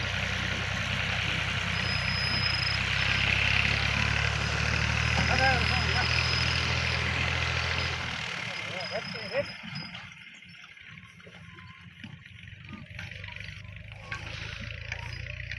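Tractor engine sowing wheat on a small field plot: a steady low engine drone for about eight seconds, then it drops to a quieter, thinner hum with occasional faint sounds.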